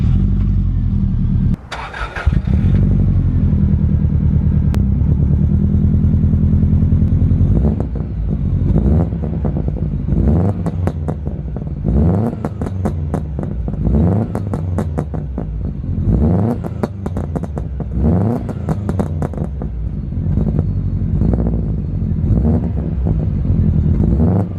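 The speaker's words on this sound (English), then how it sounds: "Of course, boxer engines have that unique sound" A Subaru Impreza P1 boxer engine idles and revs repeatedly with rapid popping and crackling bangs from an anti-lag system, loud and close, with wind buffeting the microphone.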